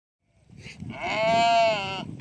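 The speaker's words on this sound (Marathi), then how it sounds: "आता मेंढ्या निघाल्या वाड्याक" A single drawn-out sheep bleat rises up nearby, loud and wavering, over faint background rustle.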